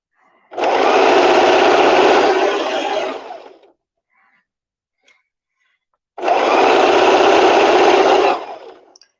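A sewing machine whirs in two long, loud, steady bursts with a short quiet pause between them, running alone close by during a craft session making a headbow.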